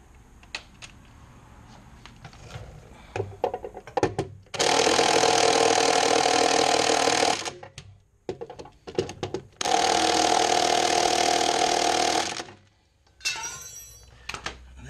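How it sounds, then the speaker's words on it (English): An impact wrench tightens the 18mm caliper bracket bolts on the rear brakes of a Ford F250. It fires two long, loud, close hammering bursts of about three seconds each, with a shorter burst near the end and light clatter in between. "Now the impact, I will tighten 18mm again. I will tighten the caliper bracket."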